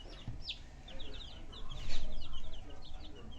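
Young barred rock chicks peep in quick, high, bright chirps, some close and some softer, with scattered rustling underneath.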